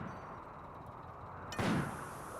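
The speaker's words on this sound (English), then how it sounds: "Oh shoot, there's an explosion." A sudden explosion bursts in the video game RimWorld, a loud broadband blast arriving after a steady background hum and trailing off with a lingering rumble.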